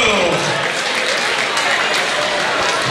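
Loud, dense applause from an audience greeting a singer at a carnival prince final night, a continuous wash of clapping with crowd noise throughout.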